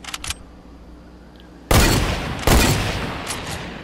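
Two loud semi-automatic gunshot bursts from a video game firefight, the first hitting at about 1.7 seconds and the second near 2.5 seconds, each ringing out with a long decaying tail after a few faint earlier pops.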